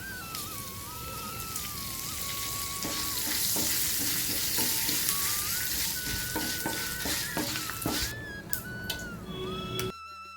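Steady crackling sizzle of curry leaves frying in hot oil, close and continuous, with some stirring clicks and a faint tonal whine in the background.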